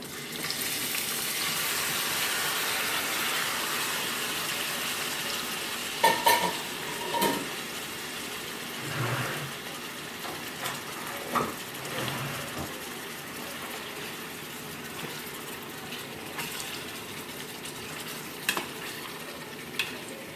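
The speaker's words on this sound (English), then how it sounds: "this skillet is ready for the scallops and the shrimp" Scallops and shrimp fry in a skillet of olive oil and unsalted butter, a steady soft sizzle with intermittent clinks and scraping of utensils against the pan, no talk.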